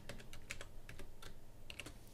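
Quick, light keystrokes on a computer keyboard while entering supplier details into inventory software, a close, steady patter of soft clicks with no voices.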